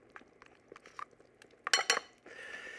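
A spoon clinks and scrapes against a bowl while sour cream is mixed in a quick dessert, a few light taps followed by a louder burst of clattering strokes and a brief rough scrape.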